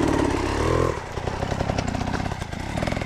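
A motorcycle engine revving hard, a loud buzzing roar that drops after a second into a rougher, pulsing rev, close and dominant with no voices.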